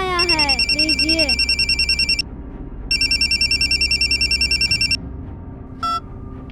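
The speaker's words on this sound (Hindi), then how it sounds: "फोन आया है, लीजिए।" A telephone rings with a bright, repeating electronic trill in two long bursts, loud and close, while a voice speaks over the start and another short tone follows.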